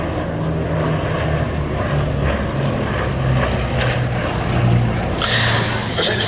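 A propeller-driven vintage aircraft at the Duxford Battle of Britain airshow sends out a steady, loud engine drone and propeller rumble that swells slightly over the few seconds, with crowd noise in the background.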